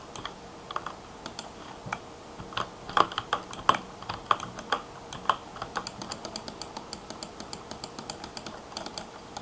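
Quick, light clicks and clattering bursts of keystrokes on a computer keyboard while typing a chat message during a Roblox game, fairly close and fairly quiet, steady at first and then speeding into a dense run.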